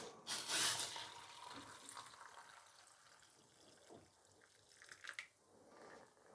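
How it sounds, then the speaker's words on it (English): Boiling water splashes and gurgles as it is poured over a bicycle chain for hot waxing, loudest at the start, with a steady trickle continuing and a few clinks near the end. "Here comes the boiling water."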